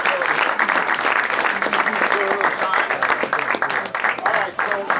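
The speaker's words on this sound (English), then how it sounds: "Let's give Chris a round of applause." Audience applause for a guest named Chris at a pizza-making event, a dense steady patter of clapping mixed with loud overlapping voices and cheers throughout.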